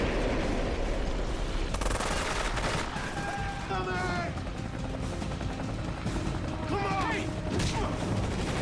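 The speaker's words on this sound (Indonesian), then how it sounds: "Dan aksi tembak-tembakan pun terjadi." Gunfire crackles through a rooftop shootout in a Prison Break action scene, with loud, sustained bursts and clanks over a dense roar, and a helicopter nearby.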